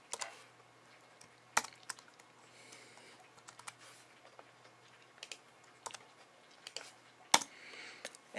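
Sparse, irregular keystrokes on a computer keyboard while entering code in a programming tutorial: quiet, close clicks separated by pauses, with a few sharper taps standing out.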